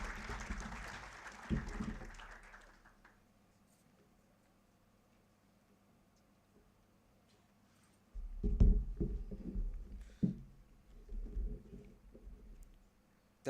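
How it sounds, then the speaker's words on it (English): Audience applause after a talk at a philosophy session on transgender identity, a burst of clapping at the start that fades into quiet, then a second wave of clapping picking up later, moderately near. "Let us give her once again a round of applause"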